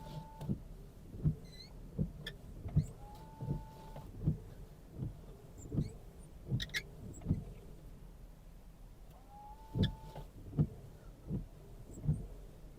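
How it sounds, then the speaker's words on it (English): Aliexpress silicone wiper blades sweep across the windshield of a 2005 Porsche Cayenne, giving regular rhythmic thumps and squeaky chatters with each pass, fairly quiet and alone. "The Aliexpress wiper seems to be a little noisy."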